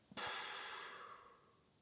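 A single slow, deep exhale drawn out for well over a second, close and soft, starting strong and gradually fading away.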